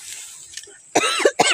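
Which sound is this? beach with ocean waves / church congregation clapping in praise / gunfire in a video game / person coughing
person coughing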